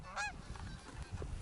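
Geese honking during an early season goose hunt in North Dakota, a brief burst of calls near the start, then faint scattered honks over low wind rumble.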